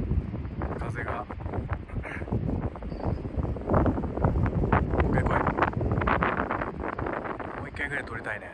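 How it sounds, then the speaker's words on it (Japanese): Cold wind gusting outdoors at night under an eastern sky, a steady buffeting rush across the microphone for the whole stretch, with faint voices underneath. "風がね、冷たくてね、めっちゃ寒いんだ"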